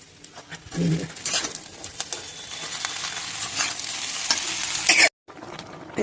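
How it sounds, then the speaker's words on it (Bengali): Stalks and leafy greens dropped into hot oil with fried onion and garlic, a close, loud sizzle with stirring scrapes, bird coos in the background, and a brief silent gap near the end. "ভাজা ভাজা হয়ে এসছে যেই, এই ডাঁটাগুলো দিয়ে দিলাম। ডাঁটা শাক পাতা দিয়ে দিলাম।"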